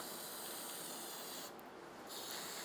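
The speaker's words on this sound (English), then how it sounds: "So I'm spraying on the part first, and you want to get glue everywhere you want to have some sort of adhesion." Spray adhesive hissing from a can onto a BMW E39 540i M-Sport pillar trim part, a steady close spray that briefly drops out for a moment before resuming, with no talking.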